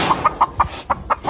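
A Thompson White gamecock stag gives a quick run of seven evenly spaced clucks, close and clear, with no voices over them.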